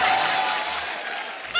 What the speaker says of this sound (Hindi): आप सबकी जोरदार तालियों के बीच में बुलाना चाहूंगा